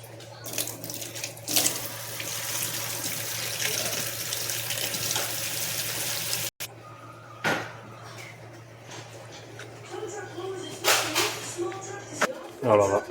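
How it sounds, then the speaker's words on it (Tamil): Sangu flowers rinsed under a running kitchen tap, steady water splashing into a sink with occasional clinks of a vessel and handling noises; moderately close, and a person speaks over part of it. "இதில் இருந்த டஸ்ட்டு பார்ட்டிகள்லாம் அலசி எடுத்தாச்சு."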